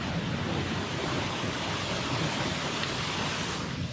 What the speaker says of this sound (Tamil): சிட்டிக்குள்ளே ஒரு சின்ன வாட்டர் ஃபால் மாதிரி இருக்குது.